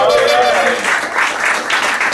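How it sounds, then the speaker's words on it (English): A live radio show audience bursts into short, bright applause right after a voice speaks, the clapping rising in quick uneven waves for a couple of seconds. "How about a big clap sign?"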